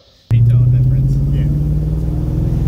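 A 1999 Mustang with a 4.6 V8 and basic bolt-ons starts pulling on a street test drive after a brief near silence, with a loud, steady close engine drone and rumble.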